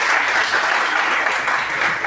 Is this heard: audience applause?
yes